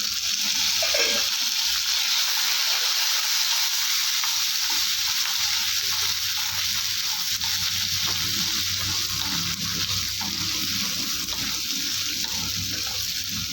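Shallots, dried red chillies and garlic frying in hot oil in a pan for bottle gourd chutney, giving a steady, loud, bright sizzle throughout with occasional stirring.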